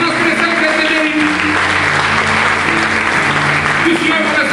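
An audience applauding in a church, steady dense clapping that fills the whole stretch at full loudness, with a few voices faintly underneath.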